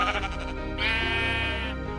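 Sheep bleating in the video game Minecraft, a single sustained, wavering bleat rising clearly over a busy game background, loud and close without any talk.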